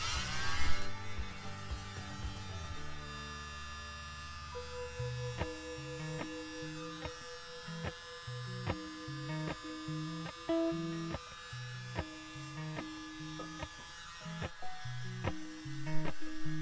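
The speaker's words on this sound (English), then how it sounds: "I'm gonna get my little mini blower and we are going to do this." A small electric mini blower used to spread an acrylic pour bloom buzzes as a steady motorized drone with pulsing shifts in pitch, running continuously at moderate level without speech.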